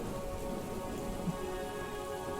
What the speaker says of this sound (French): où la pluie tombe à torrents sur le monde